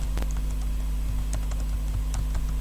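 Light tapping on a computer keyboard, a handful of quick scattered keystrokes over a constant low electrical hum.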